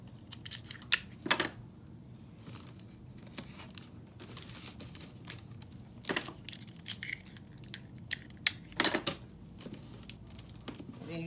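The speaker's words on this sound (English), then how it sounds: "now this is the last few pieces of tape for our box" Strips of tape rip and get pressed onto a cardboard box being turned into a basket, with intermittent sharp tearing bursts and crinkles separated by quieter handling noise.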